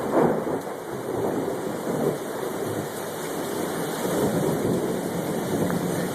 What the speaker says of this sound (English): Tropical storm, Hunter.